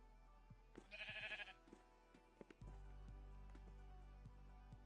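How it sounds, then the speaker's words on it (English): A Minecraft sheep bleats once in a short, tonal burst near the start, followed by a few soft clicks and a low steady game background hum, with no talking. "look at that sheep just looking at me."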